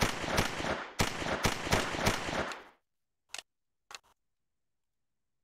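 Calico M100 gel blaster firing, a rapid run of sharp snapping shots close up for about three seconds, followed by two isolated faint clicks after a pause.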